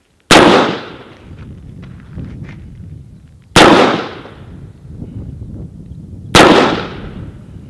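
Three single rifle shots at an outdoor shooting range crack out loud and close, a few seconds apart, each followed by a rolling echo that fades before the next.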